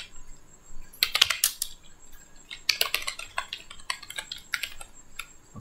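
A password is typed on a computer keyboard in close, quick bursts of clicking keystrokes separated by short pauses, with no talking.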